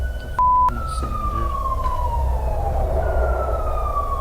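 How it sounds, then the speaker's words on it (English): A police siren wails in a steady falling tone at moderate distance over a low background rumble, briefly cut by a sharp burst. "like a police siren in the speakeasy"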